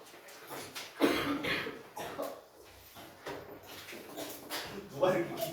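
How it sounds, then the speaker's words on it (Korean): Someone in a classroom coughs hard in a few harsh, close bursts mixed with voices and room noise. "누가 이렇게 기침을 죽을 듯이 하냐"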